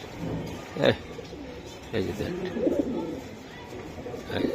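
Racing giribaj pigeons calling and cooing in a loft, soft throaty coos close by with a few sharper bursts of flapping or scuffling, under someone talking.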